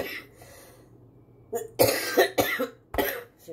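A person suffering from a lingering cough coughs about four times in close, sharp bursts after a brief quiet moment, alone without talk.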